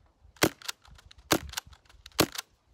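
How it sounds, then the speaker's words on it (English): A Tokyo Marui Socom MK23 airsoft pistol fitted with a Silverback suppressor fires three close, sharp but muffled pops, evenly spaced about a second apart, with nothing else heard between the shots. "I'm gonna show you what this sounds like with the silverback suppressor on."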